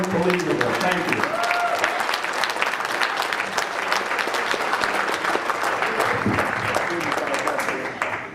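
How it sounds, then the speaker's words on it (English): An audience at a Gen Con charity auction claps in sustained, dense applause throughout, with cheering and voices mixed in. "give yourselves a round of applause"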